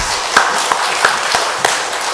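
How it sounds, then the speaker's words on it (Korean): A church congregation gives applause in worship during a service, a soft, steady wash of clapping with a few sharper individual claps standing out every third of a second or so. "하나님께 영광의 박수 돌려드리겠습니다"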